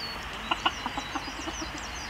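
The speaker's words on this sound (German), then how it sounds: "Auch die Hühnchen sind ganz aufgeregt." Excited farm chickens cluck in a short burst of sharp, irregular calls at moderate distance, with a faint steady background hiss and no talking.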